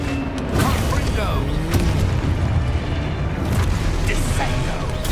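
Confringo fire spell blasts in the Hogwarts Legacy video game, a dense run of booming explosions and crackling impacts over a rumbling battle bed for several seconds, with a player shouting spell names over the action.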